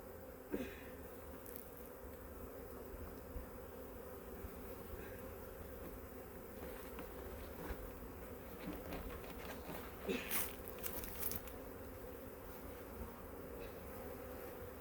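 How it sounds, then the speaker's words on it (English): Dense, steady droning hum of many honey bees buzzing together inside an opened hive, continuous throughout with occasional faint clicks and scrapes nearby. "Holy crap, there's a load of bees in there."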